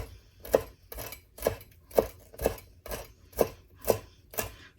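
A knife chops and minces fresh dill on a board in a steady rhythm of about nine crisp, close strikes spaced roughly half a second apart, with no talking.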